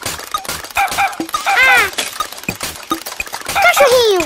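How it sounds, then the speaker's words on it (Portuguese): A cartoon dog barks in the Pocoyo animated series, a few short yelps and barks mixed in with bright sound effects and light background music. "Ele late também."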